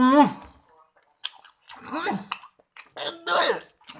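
Someone chewing ketan serundeng sticky rice up close, with soft wet mouth sounds, smacking and a throat noise. A vocal sound is heard at the start.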